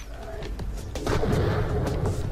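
Gunfire from a newly found weapon in Borderlands: The Pre-Sequel, dense booming shots overlapping in a loud continuous burst with heavy low rumble, alone without talk.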